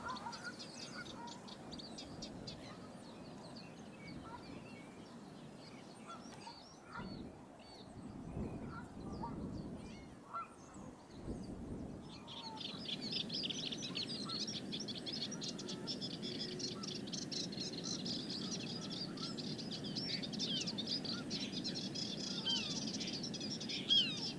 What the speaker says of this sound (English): And the ever-present reed warblers, several pairs appear to be in this part of the reed bed.